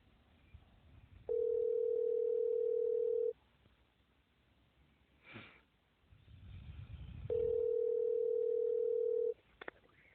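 Two long steady telephone tones, each about two seconds, sound from a phone that will not dial out, separated by a quiet gap with soft rustling and handling noise, clear and fairly close.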